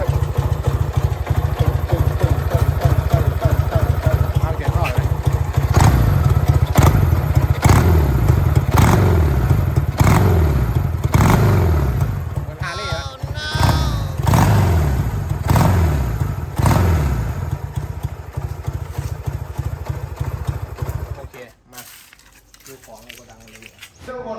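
A Honda C95 motorcycle engine runs steadily with a clattering idle and a few revs, close by, with a voice talking over it for most of the time before it cuts off near the end.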